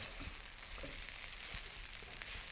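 Shrimp fried rice crisps in a hot pan with a faint, steady hiss of sizzling that continues evenly throughout, quiet and close, with no voices.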